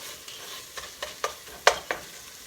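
A spoon scrapes and stirs seasoned ground beef in a sizzling pan, a series of about six soft scraping strokes over a quiet, steady sizzle.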